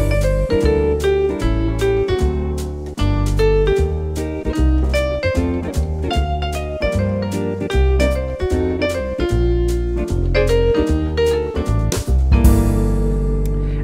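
Piano plays the original melody of a jazz standard with a steady chordal accompaniment, full and close, with no voices, closing on a sustained chord.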